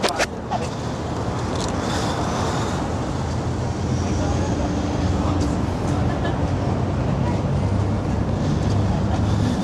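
A train pulling into the Hollywood transit station, a loud, steady rumble of wheels and engine that fills the space throughout, with people talking over it.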